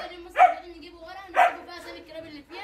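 German shepherd dogs in kennel boxes bark in loud separated bursts, two strong barks about a second apart followed by softer yips, mixed with people talking nearby.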